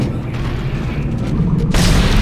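A plasma round explodes in the Dead Space video game, a loud, dense boom with rumbling low end that swells and then bursts brighter toward the end, close and dominant.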